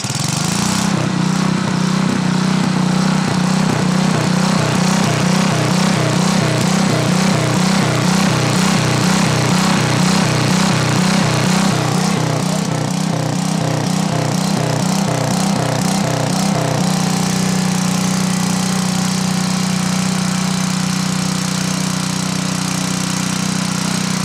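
Engine running steadily during an exhaust heat test, a loud continuous rumble with a rapid pulsing throb that shifts to a smoother, lower drone partway through, with no talking.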